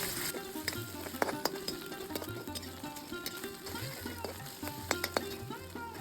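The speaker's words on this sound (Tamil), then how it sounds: "இப்போது இஞ்சி பூண்டு விட இதில் சேர்த்துடலாம் பச்சை வாசனை போகிற வரைக்கும் இதை வதக்கணும்" Ginger and garlic sauté with golden onions in a hot pan for a raw banana kurma, a steady sizzle broken by scraping stirs and light clatter of the spoon against the pan.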